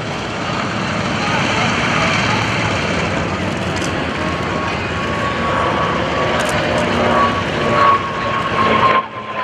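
A naval trainer aircraft taxis at the 2011 Blue Angels homecoming airshow, its engine a loud, steady drone close by, with spectators talking over it.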